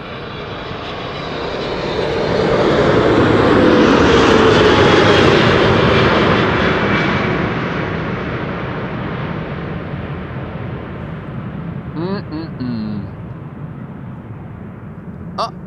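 An airliner arriving at Amsterdam Schiphol Airport on a sunny day makes a broad engine roar that swells to a loud peak as it passes close by, then slowly fades into a steady distant rumble.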